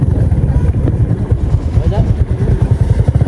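Motorcycle engine running close by, a steady low rumble with uneven throbbing pulses throughout, with voices talking over it as riders set off.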